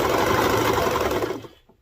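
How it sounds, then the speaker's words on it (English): A serger runs steadily at speed while stitching the cuff of a tiny preemie baby bodysuit, a close, even mechanical whir that stops abruptly near the end. "Then I'm going to put that underneath my serger"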